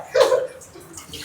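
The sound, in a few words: water being poured from a cup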